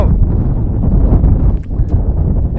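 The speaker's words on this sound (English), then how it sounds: "the wind feels a lot worse in the van than it does outside" Strong wind buffets a parked camper van on a stealth overnight stop in Newquay, a steady, loud low roar and rumble against the body that dips briefly, then surges again.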